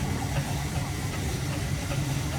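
An 1887 steam traction engine at the Bloxham steam and country fair, giving a steady close hiss and low rumble that holds constant throughout.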